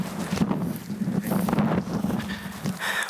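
Wind gusts outdoors on a buffalo hunt, buffeting the microphone in uneven, rumbling surges with a low steady roar underneath and brief flutters, heard alone without talk.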